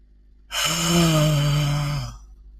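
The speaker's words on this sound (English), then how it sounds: "So I want you to yawn." A single drawn-out human yawn during a vocal warm-up exercise, a breathy voiced exhale that swells in and slowly fades over about a second and a half, close and clear with no other sound.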